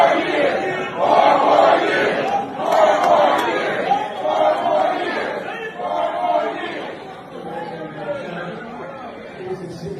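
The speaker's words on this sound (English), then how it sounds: "we got a chant of 4 more years from the White House Black History Month reception" A crowd at a White House Black History Month reception chants in rhythmic, repeated bursts of massed voices, loud and fairly close, gradually fading toward the end.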